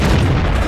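A single deep, loud boom of a tank cannon shot in World of Tanks, filling the whole brief moment.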